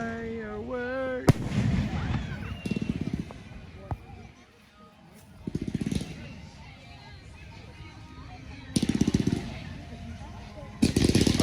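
Fourth of July fireworks in Madison, Wisconsin, with several sharp booms and crackling bursts spread across the span, some loud and some more distant, while people talk and chatter nearby between explosions.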